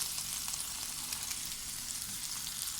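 Cooked rice stir-fries with soy sauce over a high flame for hotel-style egg fried rice, a loud, steady sizzle and hiss that holds throughout with faint stirring scrapes.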